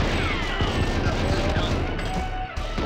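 Gunfire in the video game GoldenEye 007, a dense, steady barrage of shots and crashing impacts, loud and close, with no voices in the moment.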